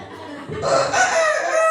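A voice imitates a rooster crowing, a loud, close, drawn-out call rising after a brief pause.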